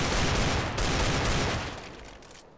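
Rapid gunfire in a Counter-Strike: Global Offensive deathmatch, loud and dense bursts of shots and rattling automatic fire running nonstop before fading slightly toward the end.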